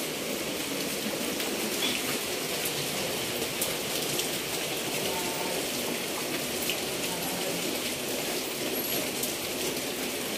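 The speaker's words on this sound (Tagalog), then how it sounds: "Sobrang lakas po ng ulan." Heavy rain from Typhoon Kristine pours down in Quezon: a dense, steady hiss of drops on surfaces that runs unbroken and fairly loud throughout, with no talk.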